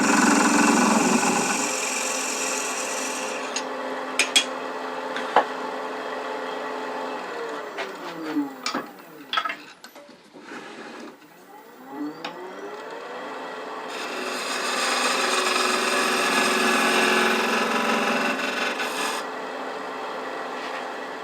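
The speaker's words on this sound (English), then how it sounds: "This time I'll just take a skew, make that divot" A skew chisel cuts a divot in very dry wood spinning on a lathe while turning a rook chess piece box: the motor hums, then scraping, rasping contact bursts come and go before the lathe spins down and back up.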